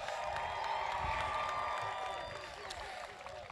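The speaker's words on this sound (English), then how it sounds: "can I have you give a huge round of applause for your teachers, your faculty, and our classified staff?" A large crowd at a 2023 high school graduation ceremony at Shadow Hills High School claps and cheers in a broad, sustained roar, with voices and whoops that fade slightly toward the end.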